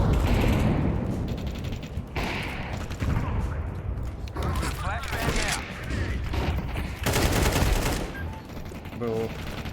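Rapid bursts of video game gunfire crackle and rattle in uneven volleys, mixed with mechanical clicks and reloads, while people talk over the action.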